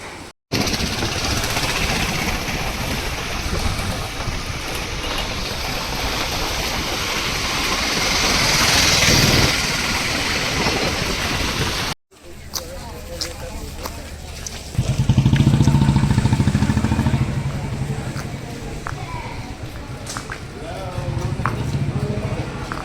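A rented two-wheeler is ridden on the road around Varkala, with rushing wind and engine noise at first, then a lower, rougher engine drone after a brief cut, with voices audible over the ride.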